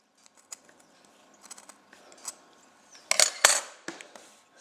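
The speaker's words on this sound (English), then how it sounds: "I might trim this off here as well with the scissors just to get a nice tip on it." Scissors snip an oil lamp wick with a few light clicks, then two sharper, louder cuts close up toward the end, in a quiet room with no talking.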